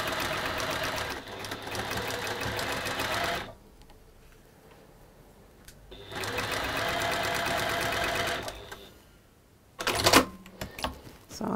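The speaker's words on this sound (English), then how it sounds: "So I'm going to sew." A sewing machine stitches a tulip quilt block seam in bursts, running steadily for a few seconds, pausing, then running again, with a short clattering stop near the end.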